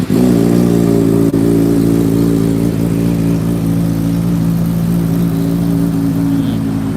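A 2019 motorcycle fitted with a genuine titanium N1 exhaust idles close by, a loud steady low rumble with a brief blip at the start, running alone without talk.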